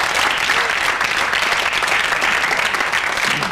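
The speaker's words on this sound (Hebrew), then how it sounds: "מחיאות כפיים!" A studio audience at a 1998 game show claps and cheers loudly and without a break, dense applause filling the whole stretch.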